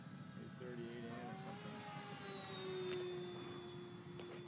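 RC P-51 Mustang model plane on a 4S Hacker electric motor flying past, a steady high whine that rises and falls in pitch as it passes, moderately loud and alone.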